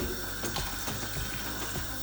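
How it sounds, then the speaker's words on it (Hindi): Water is poured into a pot of simmering chicken nihari, a steady splashing gush that runs unbroken for about two seconds with no voices. "अब मैं इसमें पानी ऐड करूँगी।"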